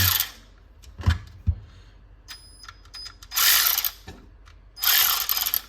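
A repaired Snap-on electric ratchet running in short bursts, a rapid mechanical clicking and whirring alternating with pauses and a few knocks as it is handled, close and with no talk.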